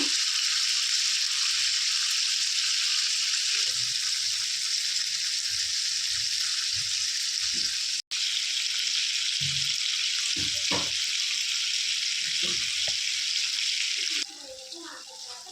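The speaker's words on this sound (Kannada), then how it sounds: "ಈ ರೀತಿ ಎಲ್ಲನೂ ತಿರುಗಿಸ್ಕೊಂಡು ಹಾಕ್ಕೊಂಡಾದ್ಮೇಲೆ ಈ ಕಡೆನೂ ಚೆನ್ನಾಗಿ ಫ್ರೈ ಮಾಡ್ಕೋಬೇಕು" Fish pieces fry in a pan with a continuous bright sizzle, broken by brief clinks and turning sounds, and the sizzle drops away near the end; a voice talks faintly underneath at times.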